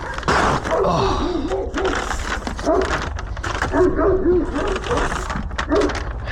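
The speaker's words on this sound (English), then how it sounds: "That's a big dog." A big dog barks and whimpers repeatedly nearby in an energetic run of loud barks and yips, mixed with a person's gasps and talking.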